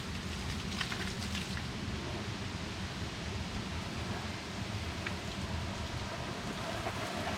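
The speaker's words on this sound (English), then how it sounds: "I'm gonna go ahead and manually water it, and we will check to see if there's any kind of bad leaks" A garden hose sprays a steady stream of water onto a waterproof-coated boat cover, giving a continuous, even patter and hiss like light rain.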